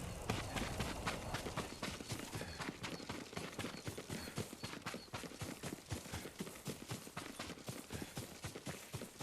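Galloping horse hooves in the samurai video game Ghost of Tsushima, a fast steady clip-clop rhythm pounding close and continuous throughout.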